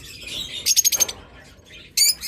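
Two big-bodied creamino opaline budgerigars chatter up close, with a quick run of sharp repeated chirps followed by a short loud call. A few softer twitters fall between the louder bursts.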